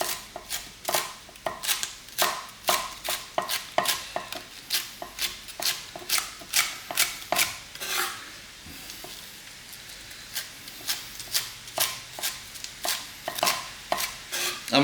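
A kitchen knife finely chopping celery on a board for chilli con carne, a brisk series of sharp close taps in steady rhythm that pauses briefly midway, then resumes.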